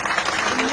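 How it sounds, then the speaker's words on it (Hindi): A crowd at a BSP political rally claps loudly for the women attending, a dense burst of applause lasting under a second. "पहले तो एक बार जोरदार तालियां हो जाए हमारी माता बहनों के लिए"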